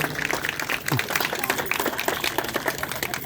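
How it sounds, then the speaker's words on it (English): An audience at a meeting claps for a few seconds, a dense patter of many hands with a voice briefly over it. "Can we get a clap with all those people, please?"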